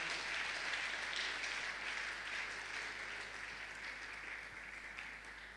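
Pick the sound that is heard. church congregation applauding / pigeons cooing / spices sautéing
church congregation applauding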